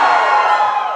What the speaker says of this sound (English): Give us a cheer if you drive manual.